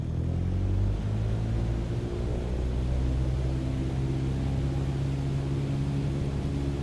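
A light airplane's engine at takeoff power in Microsoft Flight Simulator 2020, a loud steady droning hum with layered tonal harmonics, continuous and close throughout with no speech.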